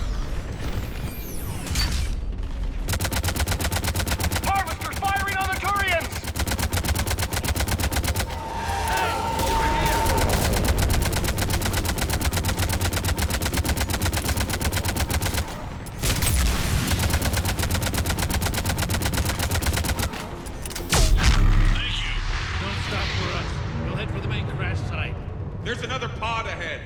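Sustained heavy gunfire from Harvesters in the Mass Effect 3 video game, dense rattling bursts with mechanical clatter running almost continuously and loudly, with shouted voices mixed in.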